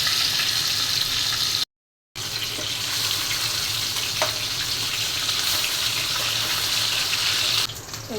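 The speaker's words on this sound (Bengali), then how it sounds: "এখন ইলিশ মাছটা ভেজে নিচ্ছি" Hilsa fish fries in hot oil, giving a steady, loud, close sizzle that runs almost without a break, with one short gap.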